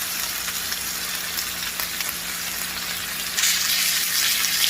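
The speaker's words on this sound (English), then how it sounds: "I just flipped them again, and they're seared like this." Pork chops sear in a pan for a Jamaican stew, a continuous bright sizzle that swells louder near the end, with no talk over it.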